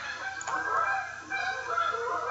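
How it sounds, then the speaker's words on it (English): Several geese honk repeatedly overhead, their calls overlapping at moderate loudness with a short lull before the honking resumes. "I hear geese going over"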